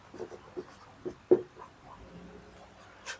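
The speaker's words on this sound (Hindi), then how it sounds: "नोट करके लिखेंगे" Pen marks on paper as wiring notes are jotted down during a house electrical wiring lesson, a few close scratchy strokes and taps, quiet and intermittent, with no talking.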